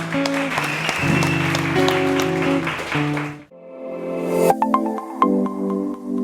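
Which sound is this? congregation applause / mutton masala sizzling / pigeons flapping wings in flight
congregation applause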